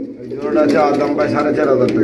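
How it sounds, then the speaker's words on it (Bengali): A pigeon coos close by in a low, throaty, rolling call that carries steadily through the whole stretch. "আর পিছনে একটা মাদি কবুতর"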